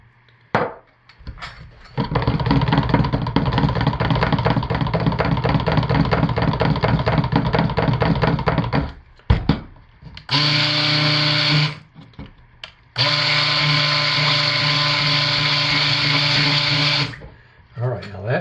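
A stick blender buzzes through apple bourbon cold-process soap batter with fragrance added, running in long, loud, steady whirring bursts separated by brief pauses.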